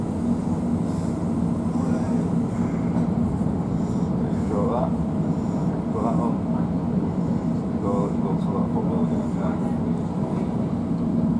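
A TfL Rail Class 345 train runs between West Ealing and London Paddington, heard from inside as a steady low rumble and hum with faint intermittent mechanical tones throughout.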